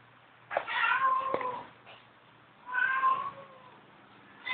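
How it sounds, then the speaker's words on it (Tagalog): A cat meows twice, two drawn-out, fairly loud calls with a pause between them and a third starting at the end, heard indoors in a dim room with no talking over it. "Hindi makuha yung pusa."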